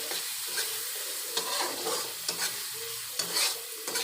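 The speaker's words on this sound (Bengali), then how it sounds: "এখন সব মশলাগুলো ভালো করে আমি একটু কষাবো।" Ground spices with chilli powder and salt fried and stirred in a pan, a steady close sizzle with repeated scraping strokes of a spoon against the pan, no talk.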